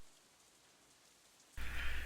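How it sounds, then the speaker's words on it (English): A rain sound effect from the Katawa Shoujo visual novel game swells in suddenly after a quiet pause, becoming a loud, dense hiss of rainfall. "The rain outside picks up"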